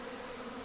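A steady, dense buzzing of many swarming honey bees, a continuous drone with no breaks.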